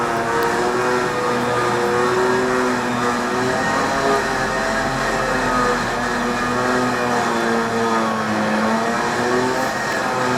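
A winch pulling a roughly two-ton Toyota Hilux, mounted on a Nissan NP300 King Cab, gives a steady loud motor drone with a faintly wavering whine that runs unbroken and close throughout.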